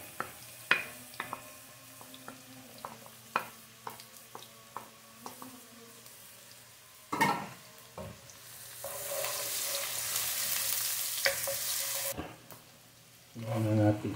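Minced garlic goes into a pan for silver scabbard fish escabeche, bringing sporadic spoon clicks and taps before a louder, sustained frying hiss swells up and then cuts off.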